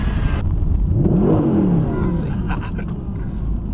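Mercedes-Benz SLS AMG Roadster engine revving on a downshift, a loud close rising and falling engine roar with a pitch sweep, under someone talking, with steady road and wind noise throughout.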